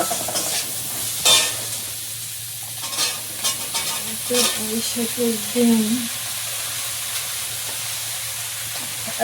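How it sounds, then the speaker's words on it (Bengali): Prawns and potatoes fry in hot oil with a steady sizzle, punctuated by stirring scrapes and clinks; a faint voice hums briefly in the background. "আলুটা চিংড়িটা ভাজা হয়ে গেছে"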